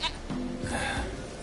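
A goat in a PS4 video game bleats once, a short wavering call over a steady background of game sound.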